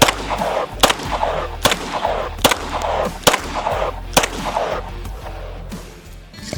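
Repeated gunshots from target shooting on open BLM land, about eight sharp cracks spaced roughly a second apart, loud and close, over steady wind noise.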